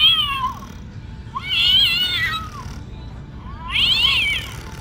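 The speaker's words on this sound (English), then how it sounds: "Aunt Bethany's wrapped up cat from Christmas Vacation." A Hallmark Christmas Vacation wrapped cat ornament plays meowing, with three drawn-out cat cries separated by short pauses over a low background hum.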